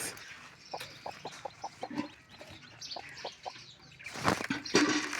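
Newly hatched chicks under a hen cheep in quick, repeated peeps close by, mixed with soft clucking from the hen.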